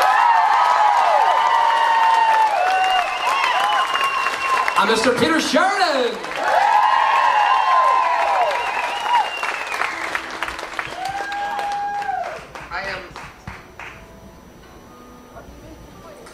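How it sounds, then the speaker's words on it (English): Concert audience on a Celtic music cruise gives a round of applause with cheers and whoops, loud at first then tapering off as someone speaks over the fading clapping. "So, a big massive round of applause"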